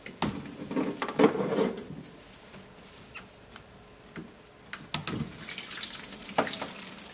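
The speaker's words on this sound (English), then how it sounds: "you better drain all the water" Water draining from unplugged tubes of a laboratory tube heat exchanger apparatus, faint intermittent splashing and trickling with gurgling bursts between quieter stretches.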